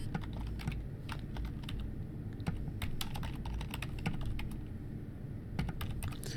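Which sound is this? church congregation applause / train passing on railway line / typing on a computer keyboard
typing on a computer keyboard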